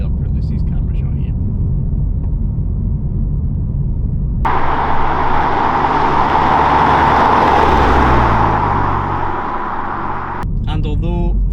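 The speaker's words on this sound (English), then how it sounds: "I'm just going to speed up for Lucy's camera shot here." A car on the road accelerates hard, its engine rising into a loud, sustained roar mid-clip after a steadier rumble of driving, then easing off as a voice begins speaking at the end.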